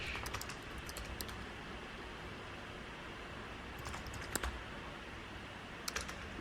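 Typing on a computer keyboard while writing ad copy, a steady run of soft clicks with a few sharper bursts of keystrokes, close and alone without speech.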